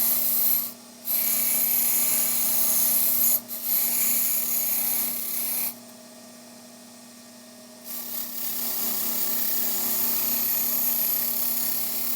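A Delta low-speed grinder fitted with a wire brush wheel scrubs a key: harsh, bright rasping in sustained stretches, broken by brief pauses and one longer lull where the brush spins free.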